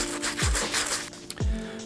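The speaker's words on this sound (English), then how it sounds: "don't be afraid to scrub hard" A cleaning brush is scrubbed hard over the sole of an Air Jordan 3 sneaker, giving rapid, rough back-and-forth rubbing strokes up close with a couple of short squeaks.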